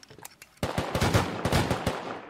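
A Tommy gun fired in a video game, a few single shots followed by a sustained close burst of rapid automatic fire.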